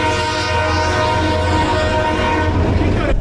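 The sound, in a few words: train passing and honking horn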